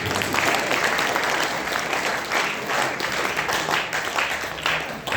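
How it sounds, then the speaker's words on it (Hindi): A crowd at an Arya Samaj Vedic bhajan gathering gives dense, sustained applause, many hands clapping together at a steady loud level without a break. "तालियां अगर ठीक बज गई हो तो ठीक है,"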